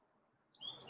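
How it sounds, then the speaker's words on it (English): A pet bird lets out a brief, faint high chirp that arrives after a quiet moment. "Okay, Chirpy says hi back"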